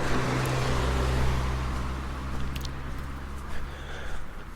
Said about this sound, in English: here comes a car along the road, parallel to me, on my right hand side, just passing.